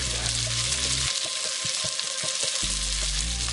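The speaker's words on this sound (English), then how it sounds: "You're basically frying it. Yeah. Sauteing it, frying." Baby broccoli stems fry in olive oil in a pan, making a loud close hiss and sizzle with sharp crackles, while a low hum stops and restarts partway through.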